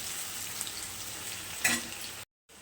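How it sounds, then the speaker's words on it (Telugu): Onions fry in a pan for a fish curry with a soft, steady sizzle close by and one brief stirring scrape, then a short break in the sound before the sizzle returns; no one speaks. "ఉల్లిగడ్డలు బాగా వేయించుకోవాలి."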